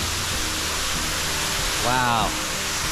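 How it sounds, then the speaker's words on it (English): A 150-foot rainforest waterfall gives a steady, loud, broadband roar, and a person briefly exclaims over it. "This waterfall is 150 feet tall."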